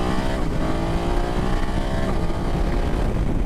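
A 2024 BMW F900 GS motorcycle engine drones steadily while riding, a loud, close, continuous buzzing hum with wind rush and no break over a few seconds.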